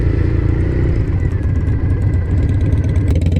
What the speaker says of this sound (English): Oh, there's my first stall.